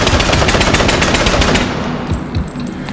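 An AVT-40 rifle chambered in 7.62x54mm rimmed fires a fast, loud automatic burst of evenly spaced close shots in the VR shooting game H3VR, then the echo fades away.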